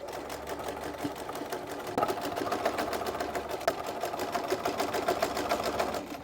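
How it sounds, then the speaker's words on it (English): A domestic sewing machine stitches the seams of a Barbie Swan Lake inspired dress from a Simplicity pattern, its needle running in a steady rapid mechanical patter close up for the whole stretch, with no talk. "sew all the way down, and do the same for the center back and side back, matching the notches and sewing down"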